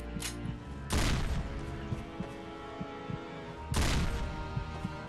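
Gunfire in the mobile horror game Four Nights at Fear: two loud, isolated shots a few seconds apart ring out over a droning game background with faint ticking sounds between them.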